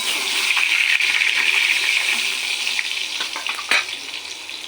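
Whole garam masala, cumin seeds and bay leaves fry in hot oil in a pan for a pointed gourd and potato curry. A loud, steady sizzle runs throughout, with a sharp crackle near the end.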